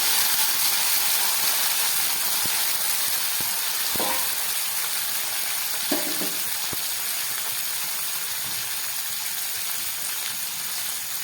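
Chopped tomato dropped into hot oil with curry leaves for a potato and pea dish, giving a steady soft sizzle and hiss with a couple of brief louder crackles and clinks of a spoon, no talking.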